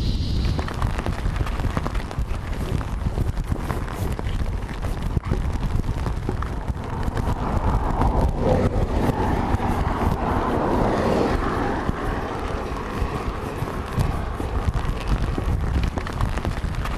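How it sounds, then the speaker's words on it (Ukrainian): Rain in a forest, starting and stopping in turns, gives a steady broadband patter of drops on leaves and surfaces that holds close and fairly loud throughout, with no voices. "Дощ почався, то він починається, то закінчується, то знов починається і так далі."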